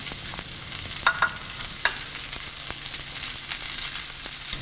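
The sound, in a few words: half-cooked bacon and sweet potatoes frying and mixed in skillet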